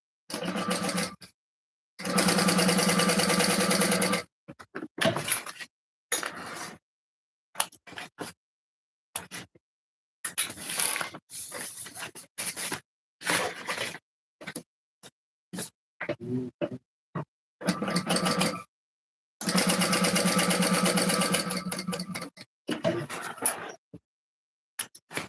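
A sewing machine runs in several separate bursts, top stitching a shoulder bag, with longer steady runs near the start and end and short stop-start stitches between, close and alone with no voices.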